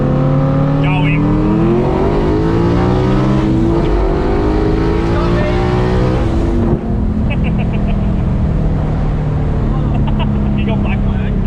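A HAKO race car revs hard on a track straight, its engine note climbing and shifting through gears, loud and close, while people talk over it throughout.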